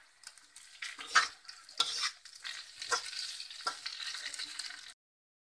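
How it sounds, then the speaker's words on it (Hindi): Chow mein fries in refined oil while a utensil stirs and scrapes through it, giving a steady close sizzle broken by quick stirring strokes over about five seconds, with no voices. "हमारी चाउमीन फ्राई हो गई है।"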